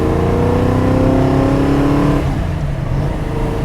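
A 400hp NASCAR V8 in an AC Cobra coupé accelerates hard, a loud, steady engine roar climbing in pitch for about two seconds before the note breaks into a rougher, lower rumble.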